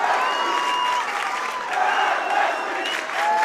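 Steady applause and crowd noise fill a high school varsity boys wrestling dual meet gym after a narrow 7-6 decision, loud and sustained with scattered cheers throughout.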